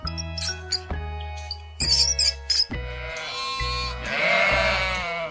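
A sheep bleats in a series of short, harmonic calls with brief gaps, ending in one longer, louder bleat, close and clear with no talking.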